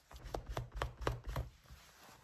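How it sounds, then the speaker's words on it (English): A utility knife cuts through pant fabric in a quick run of about six rhythmic, close slicing strokes, each with a soft thud and a brief rasp. The strokes then fade into quiet. Nothing is spoken. "I'm going to take my utility knife now. And I'm just going to start slicing."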